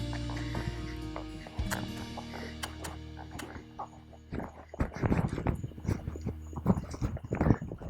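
Hooves of a big horse clip-clop in a quick, uneven trotting rhythm at close range, growing louder and more scattered toward the end.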